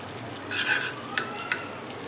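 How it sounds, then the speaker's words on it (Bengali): Half a tablespoon of butter melting in a pan for potato cheese cutlets gives a soft, faint sizzle that swells briefly, with a couple of small ticks and crackles near the end. "বাটারটা দেখুন মেল্ট হয়ে আসছে।"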